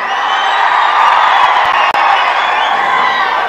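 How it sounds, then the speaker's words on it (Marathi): A large crowd at a political rally claps and cheers enthusiastically in one dense, loud, unbroken roar of applause that fills the space, with one brief dip midway. "प्रचंड उत्साहाने लोक टाळ्या वाजवत आहेत"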